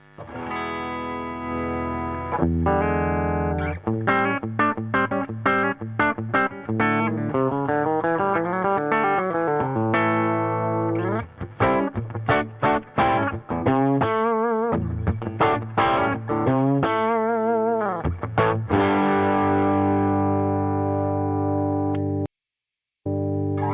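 Overdriven electric guitar with humbuckers through an amp, playing a busy riff with fast note runs and sustained chords, loud and gritty, with a brief dropout near the end.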